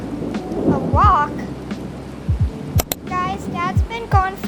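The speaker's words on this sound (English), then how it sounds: "the rain and thunder are really picking up" Cartoonish thunderstorm with rain in the game Toca Life World: several short rolling thunder cracks and bursts of rain noise, loud and close, mixed with talking voices.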